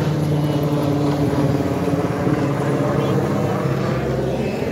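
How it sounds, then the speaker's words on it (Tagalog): A military helicopter passes overhead near Cavite, a steady loud rotor drone with a pulsing low thrum, heard under a person talking. "Ayun, helicopter oh. Military helicopter."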